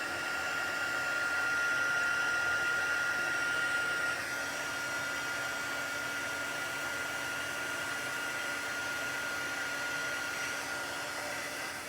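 An embossing heat tool blows hot air onto paper with a steady, loud whooshing roar. It runs unbroken for the whole stretch and eases slightly after the first few seconds.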